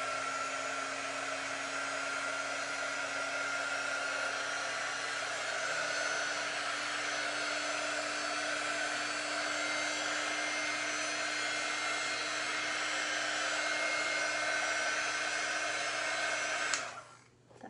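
Heat tool warming a thin layer of finish so it melts into the wood, a steady, close blowing roar that runs unchanged until it switches off just before the end, with no speech.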